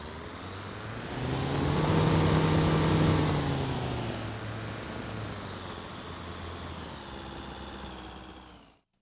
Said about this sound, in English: That's my adaptive van engine in 3, maybe 4 samples. And this is the full range of its RPM.